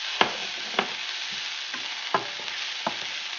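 Mushrooms, onions and peppers sauté in a pan with a low, steady sizzle. A spoon scrapes and stirs about five times in loose succession, each stroke a short crisp scrape, and no voices are heard.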